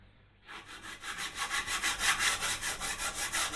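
Coarse 80-grit sandpaper scrubbing hard across a wooden workpiece in a workshop, starting abruptly after a brief quiet, then rapid, even back-and-forth strokes, close and fairly loud, no talking.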